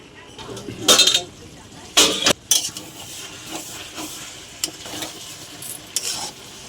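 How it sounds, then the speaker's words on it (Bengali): Fish heads and cabbage curry stirred in a pan, with a few loud scraping and clinking strokes of a utensil against the pan over a low background sizzle, close by. "ভালো করে নাড়িয়ে নেব।"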